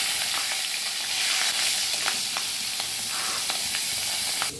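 Black cumin seeds and four green chilies sizzle and fry in hot mustard oil in a wok, a steady bright crackle with small pops throughout, close and continuous with no talking.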